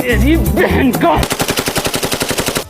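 A cartoon cannon fires a fast, loud burst of rapid gunshots like a machine gun. Before it, cartoon voices make bouncy sound effects.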